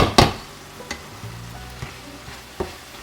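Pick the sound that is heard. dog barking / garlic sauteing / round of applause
garlic sauteing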